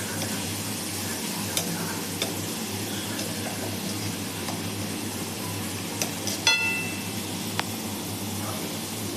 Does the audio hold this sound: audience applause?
no